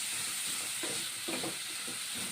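Onions and green chillies frying in hot oil give a steady, close, even hiss and sizzle that fills the whole stretch, with a few faint clinks from a utensil and no talking.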